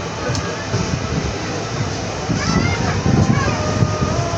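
Teesta Torsa Express passenger train with an old ICF rake running between Sealdah and New Jalpaiguri, a steady rumbling clatter heard from inside, swelling slightly louder toward the end.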